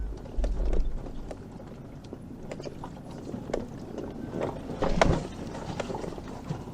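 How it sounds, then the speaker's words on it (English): A four-wheel-drive vehicle crawls over rocks on a rough desert trail, giving close clunks, knocks and rattling of the body and suspension with scattered thumps of tires on stone over a low engine rumble. "I'm going to put it into four-wheel drive, but just to kind of help the vehicle go over the rocks."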